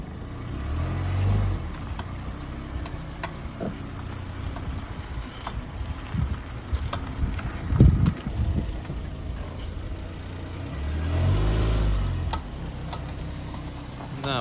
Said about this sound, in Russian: похрустывает все-таки граната, которую мы делали